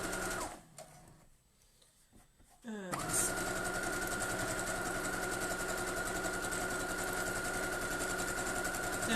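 Quilt block fabric being stitched on a sewing machine; after a few quiet seconds of handling, the motor starts and runs with a steady close, rapid whirring hum.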